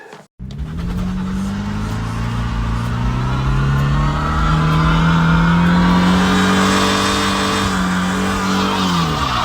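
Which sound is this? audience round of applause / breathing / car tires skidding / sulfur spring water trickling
car tires skidding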